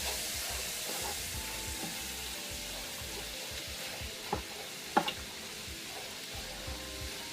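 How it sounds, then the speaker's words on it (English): Garlic sautéing in butter in a fairly large pan over medium heat for garlic shrimp fettuccine Alfredo, a steady soft sizzle with a couple of faint clicks, heard alone. "I'm just going to saute that in the butter for a minute."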